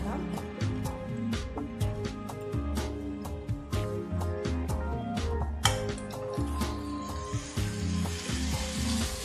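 Squid pieces for a Kerala-style stir fry go into a hot pan and sizzle steadily and close, with a dense crackle and frequent metallic clinks from stirring throughout.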